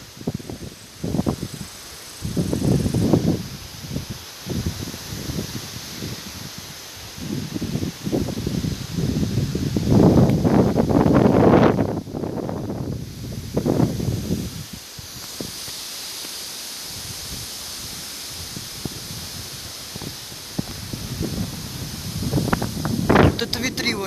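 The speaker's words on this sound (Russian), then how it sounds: "Посмотрите, какой ветер сильный." Strong outdoor wind roars and gusts in surges, buffeting the microphone with heavy low rumble, swelling loudest midway and again at the end, while a person speaks intermittently over it.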